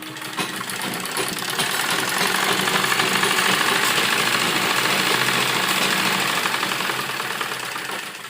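A sewing machine stitches fabric for a frock in one continuous whirring run that rises, holds steady for several seconds, then eases off.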